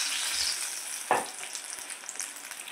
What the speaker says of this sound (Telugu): ఇది మీడియం ఫ్లేమ్లో పెట్టుకొని బజ్జీ చేసుకోవాలండి